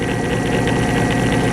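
A lab electric motor runs at 40 volts and 833 RPM, giving a steady, even mechanical hum with a faint rhythmic flutter and no pauses.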